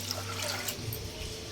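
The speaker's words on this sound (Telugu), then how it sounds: "ఒక గ్లాస్ వాటర్ వేసుకొని బాయిల్ చేసుకున్నాను" Water poured onto soaked chana dal in a pot, a short soft splashing pour that ends with a brief clink, no talking.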